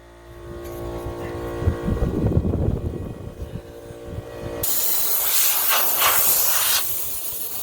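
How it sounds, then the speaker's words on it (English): Compressed air hisses in a strong, steady blast from about 4.6 seconds on, cleaning leaves and grass off a mower; before that come lower mechanical rumbles and clatter. "I'm just going to blow it off with our compressor, get all the leaves and grass off of it"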